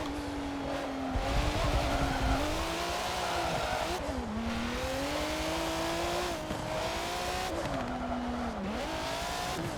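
Race car in Forza Motorsport 7 with a loud, continuous engine note that rises and falls through gear shifts, plus some tire noise as grip is lost, with no talking.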